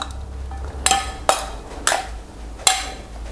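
Utensils clatter against a bowl while a spicy fermented fish salad dressing is tossed together, with four sharp, separate knocks and scrapes spread over a few seconds against a quiet background.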